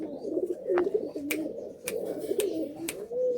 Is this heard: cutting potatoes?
no